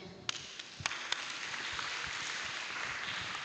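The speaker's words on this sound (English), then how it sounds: "Giving applause, everyone." Steady applause from a crowd at an international student forum, a continuous wash of clapping with a few sharper claps standing out near the start.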